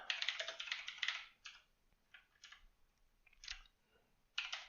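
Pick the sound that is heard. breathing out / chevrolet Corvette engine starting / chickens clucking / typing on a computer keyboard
typing on a computer keyboard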